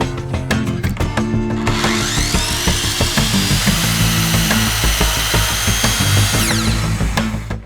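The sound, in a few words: circular saw cutting wooden posts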